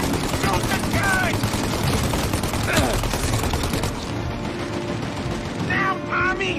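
Enemy gunfire in the game Mafia: Definitive Edition comes as dense rapid bursts that layer over a constant roar of battle, loud and close. Voices shout over it throughout.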